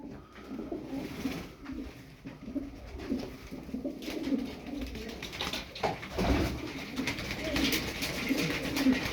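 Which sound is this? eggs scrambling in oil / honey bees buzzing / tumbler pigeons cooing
tumbler pigeons cooing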